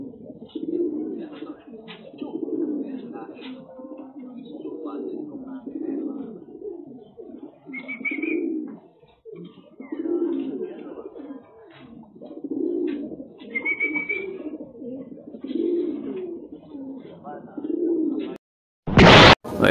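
A racing pigeon coos repeatedly in a steady, rhythmic series of soft low calls after landing in its loft, with a couple of brief higher chirps and a sharp pop at the end.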